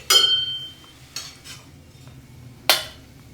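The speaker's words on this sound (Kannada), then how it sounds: "ಇದಂತೂ ಗುಡಿಯಾಗಳ ಗಂಟೆ ಹಂಗೆ ಸೌಂಡ್ ಮಾಡುತ್ತೆ ಬಾಣಲಿ" A metal frying pan (kadai) clanging like a temple bell, three sharp ringing metallic strikes spaced apart, the first and last loudest with a short ringing tail, otherwise quiet.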